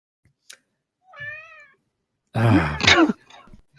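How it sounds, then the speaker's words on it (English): A cat meows once clearly, with a faint short sound just before it. A louder voice follows, sounding like throat clearing or speech, and ends the sequence. "Ah, my cat."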